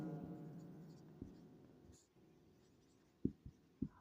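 Pen or marker writing out notes during a physics lecture on electric current, soft scratchy strokes followed by a few sharp taps near the end, faint and close, with a low background hum and no speech.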